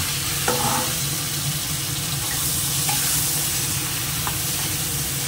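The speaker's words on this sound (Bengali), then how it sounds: "তো এটা এবার দিয়ে একটু নেড়ে তুলবো।" Butter sizzles in a hot pan as it is stirred, a dense, loud, continuous frying hiss with a few faint scrapes, heard close and alone.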